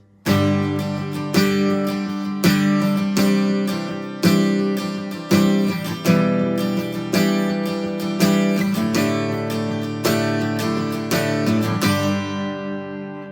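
An acoustic guitar strums chords in a steady rhythm, about a dozen bright downstrokes, each ringing briefly before the next, ending on a fading chord.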